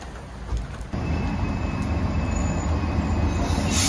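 A passenger train in Greece heading back toward Athens, heard from on board as a loud, continuous rolling rumble of wheels on rail that swells sharply about a second in, with a faint high squeal over it.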